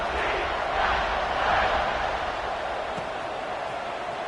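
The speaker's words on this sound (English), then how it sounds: "this crowd is buzzing after that last score" Steady crowd buzz filling a stadium in a college football video game during a fourth-quarter kickoff, a dense broadband roar that swells slightly and holds at a constant level throughout.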